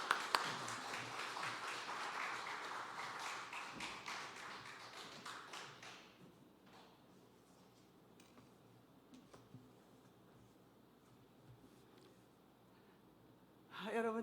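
A church congregation claps to welcome a pastor, a faint, distant patter of applause fading after about six seconds into a quiet room with soft voices.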